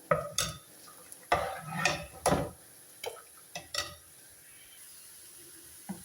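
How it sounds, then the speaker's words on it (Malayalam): Fish frying in a pan is turned with a utensil, giving several sharp scraping and clattering strokes over a faint sizzle, close and irregular with quiet gaps between. "നമ്മുടെ മീൻ വറുത്തതൊക്കെ ഇവിടെ നന്നായിട്ട് മുരിഞ്ഞിട്ടുണ്ട്"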